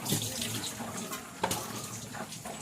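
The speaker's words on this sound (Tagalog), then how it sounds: "Lubutay tubig gamay." A little water poured into a container indoors, a steady close splashing trickle with soft burbling under quiet background sounds.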